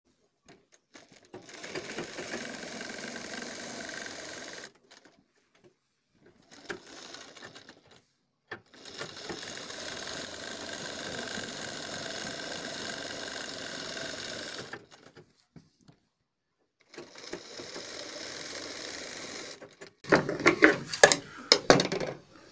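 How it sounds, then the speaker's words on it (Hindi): A sewing machine stitches a sleeve design in several bursts of rapid, even whirring separated by pauses, followed by a few sharp clatters of handling near the end. "चलिए दोस्तों हम अपनी मशीन पर चल के और इसको कर लेते हैं कंप्लीट।"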